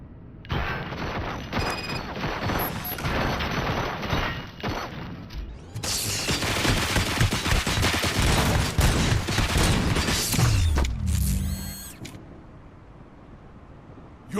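Heavy sustained gunfire and booming shots rattle through a RoboCop: Rogue City firefight, loud and dense for most of the stretch, with mechanical clanks and a creak near the end before it falls quieter.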